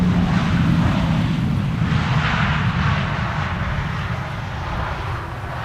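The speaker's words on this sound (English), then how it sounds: "El Al flight 337 from Tel Aviv, keeping up the speed." El Al flight 337 from Tel Aviv, a large airliner on arrival in gusty crosswind, rumbles past as a loud, broad, steady jet roar that fades slightly over several seconds, with no voices over it.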